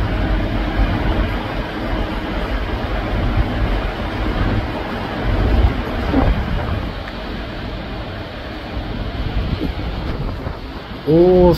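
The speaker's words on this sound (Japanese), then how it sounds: "波が高い。" High ocean waves surge in a continuous broad roar, loud and close, with wind noise and slight swells in level and no speech, ending in a brief louder burst.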